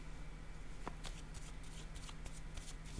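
Tarot cards being handled and set down on a surface, soft quick shuffling and light taps over a faint steady hum.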